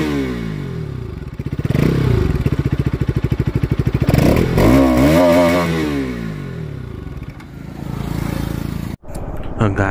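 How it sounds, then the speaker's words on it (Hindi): A 2024 Bajaj Pulsar RS 200 E20 motorcycle revs close by, its exhaust rising and falling through several throttle blips with a mechanical clatter, then settling to idle before a sharp cutoff near the end. "और इसका साउंड आपको चेक करवाते हैं, एग्जॉस्ट साउंड इसका कैसा है।"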